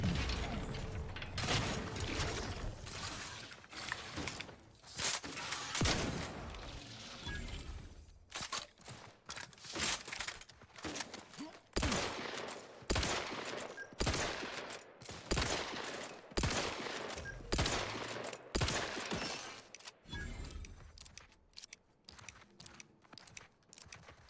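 Gunfire in The Outer Worlds 2 sounds in repeated loud bursts separated by short gaps, mixed with mechanical clicks and rattles from the weapon.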